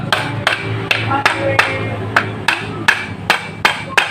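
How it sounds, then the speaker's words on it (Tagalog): Rubber mallet tapping motorcycle transmission parts, gear and shifting fork, into place: a steady series of about ten sharp knocks at roughly half-second intervals, close and loud, with someone talking quietly between blows. "Pukpukin natin ng konti."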